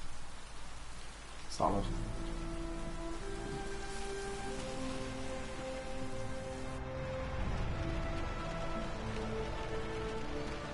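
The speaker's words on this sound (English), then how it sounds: "Why is no one looking into how much rain there is?" Steady rain falls in the video game Heavy Rain, a constant hiss of drops on surfaces beneath game music tones, with a sharp thud early and a brief spoken word.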